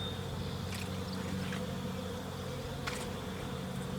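Honey bees from a newly installed package hum and buzz around an open hive during an inspection, a steady drone close by with individual bees zipping past now and then.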